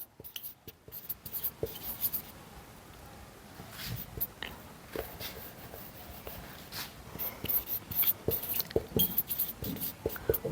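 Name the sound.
writing on a board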